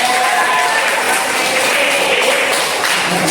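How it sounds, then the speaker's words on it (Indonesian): Classroom applause from a group of students, a dense, steady patter of clapping filling the whole moment at close range. "Tepuk tangan dulu."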